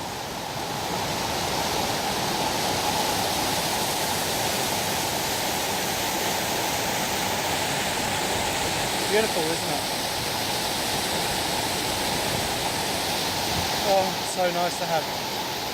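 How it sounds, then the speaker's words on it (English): Fast-flowing water at Twin Falls, a waterfall, makes a loud, steady broadband roar through the whole stretch, with people talking briefly over it. "Look at this massive, fast flowing water."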